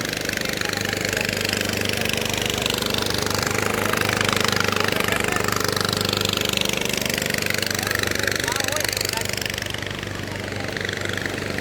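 A boat engine runs steadily and loudly near Omkareshwar, a continuous droning rumble holding constant throughout with no pauses.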